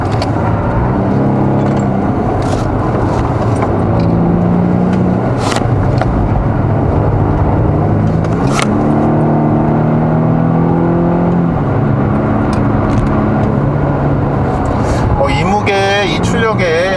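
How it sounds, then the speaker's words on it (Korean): Engine of a Volvo V60 Cross Country T5 revving hard to near 5000 rpm before upshifting, driven in dynamic mode on a winding road, a loud, continuous rising and falling drone heard from inside the car. "엔진 회전수를 아주 높여야지만 그렇게 그 다음 단으로 넘어갈 수 있는 것 같습니다."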